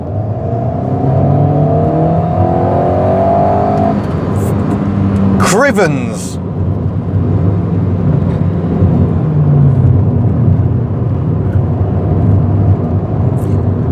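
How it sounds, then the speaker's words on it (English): Alpine A110 sports car engine revving up under acceleration from inside the cabin, a strong rising growl that holds loud throughout, with a man exclaiming partway through. "As soon as you get on that throttle, grrr, sounds amazing."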